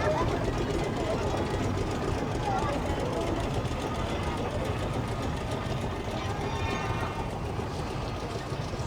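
The steam engine Iron Duke, once worked for Dagnalls of Cricklewood, rumbles past in a steam rally parade at Haddenham, a steady mechanical churn and chuffing under continuous commentary.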